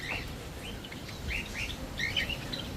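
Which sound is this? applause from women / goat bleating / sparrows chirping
sparrows chirping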